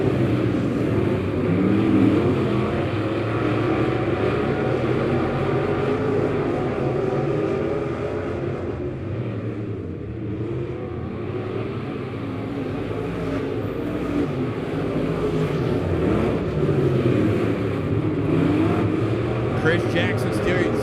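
Dirt track race cars roaring around the oval at Lebanon Midway Speedway during a heat race, a steady loud engine drone rising and falling as the pack circles, with an announcer talking over it throughout.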